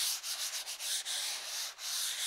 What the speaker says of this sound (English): I then take a 150 grade sandpaper and just lightly go over it